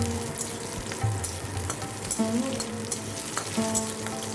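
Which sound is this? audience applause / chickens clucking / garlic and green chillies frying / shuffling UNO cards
garlic and green chillies frying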